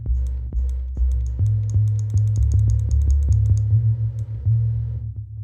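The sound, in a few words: computer mouse clicking while playing Mini Motorways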